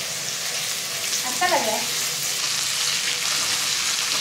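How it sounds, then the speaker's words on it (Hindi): Onions fry in a pan for Hyderabadi chicken, giving a steady, fairly loud sizzling hiss throughout, with a voice speaking briefly in the middle. "हैदराबादी चिकन बनाऊंगी रात को, उसके लिए बेरेस का चाहिए तो इसीलिए मैं अनियन फ्राई कर रही हूँ फर्स्ट"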